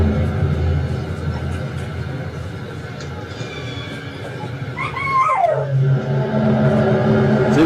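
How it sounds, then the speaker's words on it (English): Dogs yip and whine over a loud, continuous low rumbling drone, with a rising and falling howl-like cry partway through. "It's even got my dogs barking."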